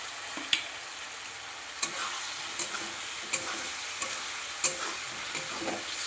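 Chopped banana flower is stirred into spice paste frying in a pan, a soft continuous sizzle broken by several sharp scraping clinks of a spatula against the pan at irregular intervals.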